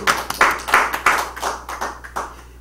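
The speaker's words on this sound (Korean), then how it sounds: "박수 박수." A small group claps in a quick, uneven burst at a church gathering, the sharp slaps close and fairly loud, tapering off over a couple of seconds with no talk.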